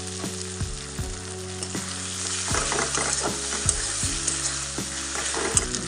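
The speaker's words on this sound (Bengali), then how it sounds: "আমি তেলের মধ্যে পেঁয়াজ রসুন তুলে দিয়ে দিয়েছি, এরপর একটু চিনি দিচ্ছি" Onion and garlic with sugar, turmeric, ginger paste and garam masala paste frying in oil for fish kalia, a close, steady sizzle and crackle over repeated low tonal thuds and hums, with no talking.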